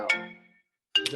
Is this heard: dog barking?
no